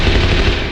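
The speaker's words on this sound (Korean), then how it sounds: "그때 바깥에서 들리는 총성에 미유키의 어머니는 타치야를 내보내려 하는데요." Heavy gunfire sounds from outside in one continuous, loud, dense burst of rapid shots, like machine-gun fire, with no voices.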